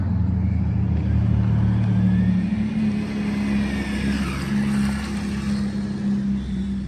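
Losi 1/12-scale NASCAR RC car on a Hobbywing brushless motor with a small 30 amp system, whining steadily and nearby as it runs, with rising and falling motor pitch throughout and no talk.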